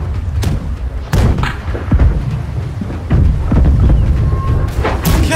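Ship cannons fire in Blackwake, sending loud, heavy booms in quick succession, some overlapping, with rumbling tails between the shots.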